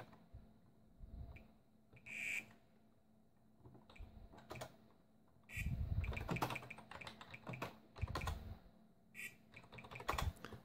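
Keys clatter in uneven bursts on a Raspberry Pi Pico set up to emulate a Sinclair ZX Spectrum 128K +3, as keywords are typed into 128K BASIC; the clicks are close and clear, with louder flurries between short pauses.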